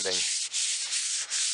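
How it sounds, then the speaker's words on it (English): Steady abrasive rasping of 220-grit sandpaper lightly rubbed over a table's finish, with two brief pauses between strokes, close and fairly quiet. "So what I've done is I've just given it a light sanding"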